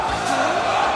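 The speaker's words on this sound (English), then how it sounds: "crowd roaring" A tournament crowd at a Super Smash Bros. Melee match roars in one sustained, dense swell of cheering, loud and close, filling the whole moment.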